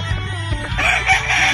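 A Tornado hatch straight-comb gamefowl rooster crowing at close range on a game farm, one brief loud crow that rises into a strained, hoarse finish over a low background rumble.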